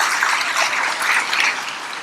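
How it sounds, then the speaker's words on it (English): Audience at an awards ceremony applauding an honor guard and a pipe and drum corps, a broad even wash of many hands clapping together that fades slightly near the end, with no voices on top. "How about another round of applause for Lisa Mick and our honor guard and the pipe and drum corps."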